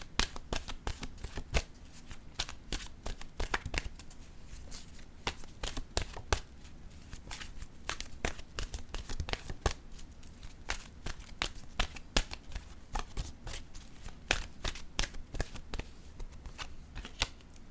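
Oracle cards being shuffled by hand, a long run of crisp, close riffling snaps in quick irregular bursts with a soft rustle between them, no voices.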